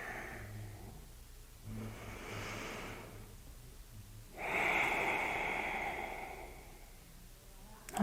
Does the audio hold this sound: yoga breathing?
yes